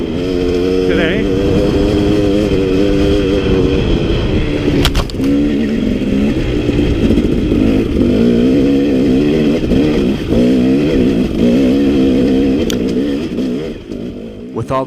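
A KTM 250XC two-stroke dirt bike rides along a wooded trail, its engine buzzing loudly and close while the revs rise and fall, with short throttle chops and bursts throughout.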